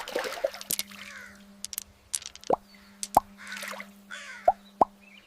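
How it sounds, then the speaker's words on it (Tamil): Stones drop one at a time into a clay water pot, giving about five sharp, separate plops at uneven intervals, with faint bird calls between them over a low, steady hum. "கற்களை ஒவ்வொன்றாக பானைக்குள் போட்டது"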